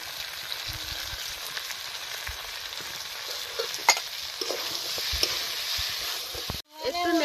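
Chicken pieces cooking down in oil for chicken kanti, with a steady close sizzle and scraping stirs throughout, the frying growing briefly louder near the end.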